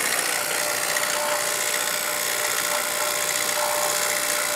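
A vacuum pump runs steadily on a newly installed furnace and evaporator coil system, a constant loud whirring drone with a thin high whine, unbroken and close by.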